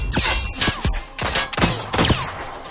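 The P-12K gun firing in a video game, a rapid burst of several loud close shots in quick succession with short gaps between them, no talk.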